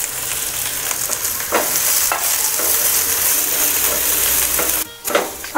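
Green chilies, finely chopped garlic and ginger fry steadily in hot oil for a Marathi restaurant-style dal khichdi, a continuous close sizzle with occasional spoon stirs and a brief break near the end.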